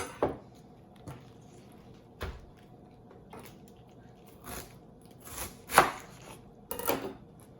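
A knife cuts out the hard core of a cabbage in a kitchen: a handful of sharp, separate crunching cuts and taps spread unevenly over several seconds, close and fairly quiet, with no speech.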